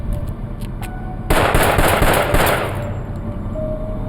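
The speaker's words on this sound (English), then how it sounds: "One bullet entered Stan McKnight's head. Another ripped through his hand." A sustained, loud burst of rapid gunfire aimed at a man during an FBI manhunt, lasting about a second and a half before fading out, heard alone without speech.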